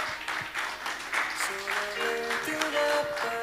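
Audience applause at a church music festival for a group's third anniversary, steady dense clapping with music tones sustained underneath throughout.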